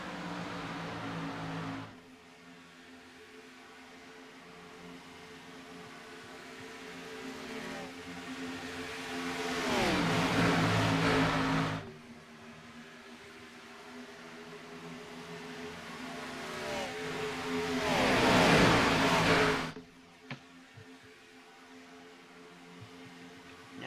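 Race car engines roar in a racing video game at Talladega, a continuous drone that swells twice into loud passing surges and then drops off sharply, with no talk.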